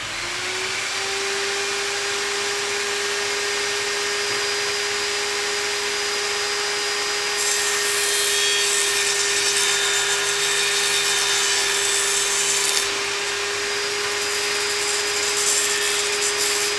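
Jigsaw cutting out corner holes in wood for a basic table saw table, a loud continuous motor whine with a steady pitch and a harsher cutting rasp partway through, no talk.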